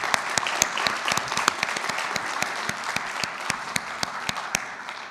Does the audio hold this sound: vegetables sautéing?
no